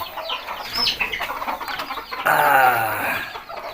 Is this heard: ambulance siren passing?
no